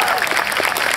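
Audience applause at a municipal band concert by the Decatur Municipal Band, a brief dense burst of clapping filling the whole second, close and fairly loud with no gaps.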